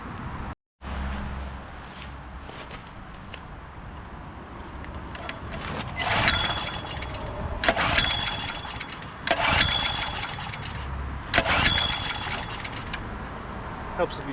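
A late-1990s Honda Harmony lawn mower engine is pull-started, with repeated rope-pull bursts at a steady rhythm and a sputtering engine sound close by; someone speaks in between.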